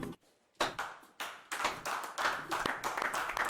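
Neighbours out on a residential street clapping together after police arrive, a burst of scattered hand claps that starts abruptly after a brief pause and grows denser and louder, close and uneven.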